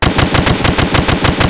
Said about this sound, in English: This is MG36.